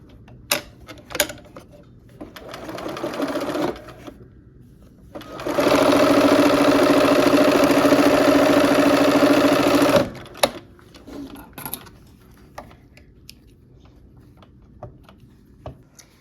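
A sewing machine stitches quilt pieces together in a few bursts: short runs and a sustained run of several seconds, close and clear, separated by quiet handling clicks.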